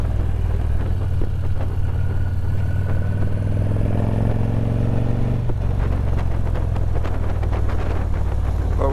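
A big motorcycle's engine drones loudly and steadily while riding, a deep continuous rumble with wind and road noise layered on top and no one speaking.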